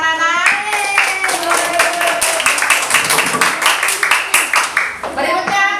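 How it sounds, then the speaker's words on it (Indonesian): Children in a primary school class clap their hands together in a loud burst of rapid, rhythmic claps that goes on for several seconds, with a teacher's voice heard at the start and young voices joining near the end. "Sekarang tepuk tangan anak."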